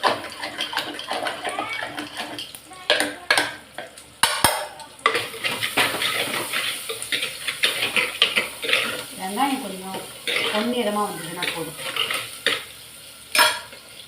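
Ingredients sautéing in a pan with tomato while being stirred and mashed for a Tamil keerai kadaiyal, giving close scraping and clattering stirs with soft sizzling, plus a few sharp utensil knocks against the pot.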